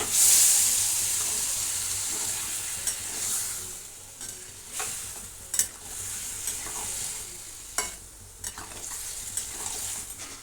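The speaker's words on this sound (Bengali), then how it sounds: "এবার আমি জলটা দিয়ে দিলাম।" Water hits a pan of fried-down masala with a loud hiss that fades into a steady simmering sizzle, broken by occasional clinks and scrapes of stirring.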